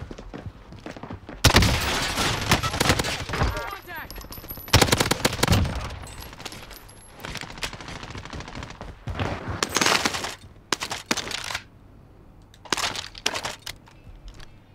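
Bursts of rapid automatic gunfire and sharp single shots in the video game Warzone, loud and close at times, with fainter distant firing in between.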